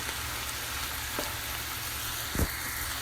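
Spinach wilting in a pan of green puttanesca sauce with anchovies, garlic and red pepper flakes gives a steady, soft sizzle and hiss, with a couple of faint clicks from stirring.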